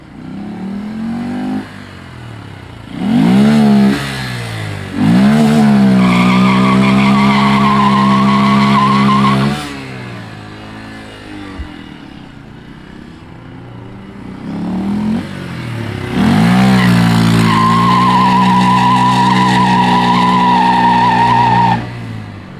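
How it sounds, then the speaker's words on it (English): A 2022 Honda Grom doing a roll and burn, engine revving hard in two long pulls with loud sustained rear tire squeal and skidding, easing off between bursts, no talk over it. "You want me to show you the roll and burn on this?"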